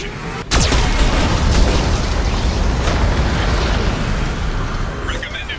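Heavy booming blasts from a Geth cannon in Mass Effect 2, a loud sudden impact followed by a long roaring, rumbling wash of explosion noise that slowly fades over several seconds.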